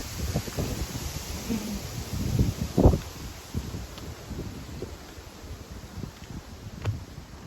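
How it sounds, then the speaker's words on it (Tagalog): Gusty wind in a park buffets the microphone and rustles foliage in uneven bursts, with a few louder thumps along the way. "There's a wind."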